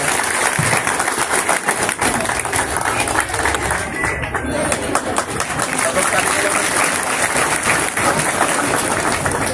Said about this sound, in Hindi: एक बार सब लोग ताली बजा करके स्वागत करेंगे तिरुपति बालाजी का चौलोड़ा।